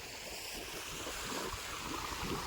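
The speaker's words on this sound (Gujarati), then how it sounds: "અહીંયા આપણી મકાઈમાં પાણી જાય" Irrigation water rushes and gurgles steadily into a maize field at close range, a continuous flowing wash with no voices.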